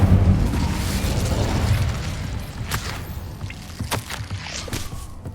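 An Incendio fire spell cast in Hogwarts Legacy erupts with a loud roaring whoosh at the start, then fades into scattered crackling pops and small bursts.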